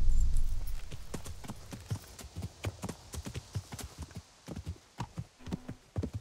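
Horse galloping in Kingdom Come: Deliverance, a steady run of hoofbeats thudding at close range, no voices over it.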